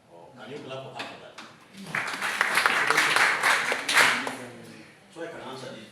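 Audience at a public forum in Arua City, Uganda, bursts into clapping that swells for a few seconds amid scattered voices and talk, then fades back as speech resumes.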